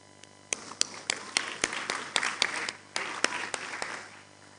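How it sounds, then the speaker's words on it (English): An audience at the KADINVEST 7.0 investment summit breaks into scattered applause, a loose run of separate sharp claps that thickens briefly and then thins, fairly faint in a large room. "A round of applause, please."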